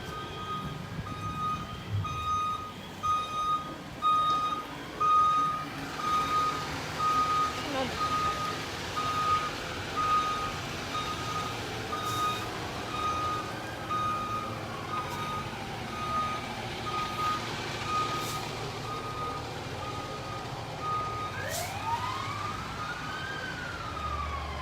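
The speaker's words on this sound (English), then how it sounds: "Stay out of the way of that fire truck." Steady electronic reversing beeps ring out from a fire truck at a large fire on University Avenue in Midway, Saint Paul, repeating evenly over a busy outdoor din of engines, running water and distant siren wails.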